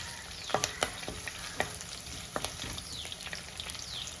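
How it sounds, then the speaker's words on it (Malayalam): Garlic and ginger fry in a pan for a Kerala-style rasam, giving a steady close sizzle with sharp crackles and pops scattered throughout and no talk. "നമ്മുടെ വെളുത്തുള്ളിയും ഇഞ്ചിയും ഒക്കെ ചേർത്ത് കഴിഞ്ഞാൽ നന്നായിട്ട് അതൊന്ന് മൂത്ത് വരണം"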